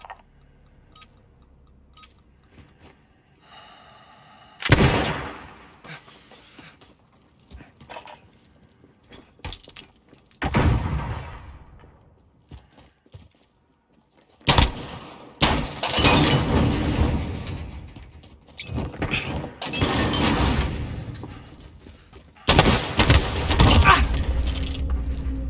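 Gunfire rings out in a gunfight at a bazaar, with loud sharp bursts and single cracks scattered across the stretch, some close and crashing, separated by quieter gaps.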